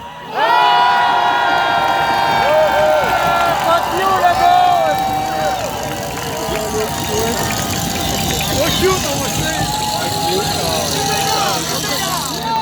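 A protest crowd in Montreal cheers and shouts loudly and continuously, with many voices blending into a dense, sustained roar that holds steady throughout.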